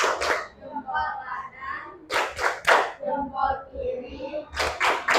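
A classroom of children does a thumb-clapping routine, with short bursts of rhythmic group clapping alternating with a teacher's spoken chant, close and fairly loud.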